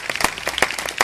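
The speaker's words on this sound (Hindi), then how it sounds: "अब इनके लिए जोरदार ताली बजा" Audience at a Srimad Bhagwat katha devotional gathering in Indrapuri, Etah, applauding the devotional singers: a brief, dense burst of many hands clapping at close to moderate distance, with no voices over it.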